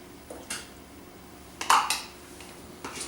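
Stir fry being stirred in a pan: a few faint, sparse scrapes and clinks of a utensil against the pan, separated by quiet pauses.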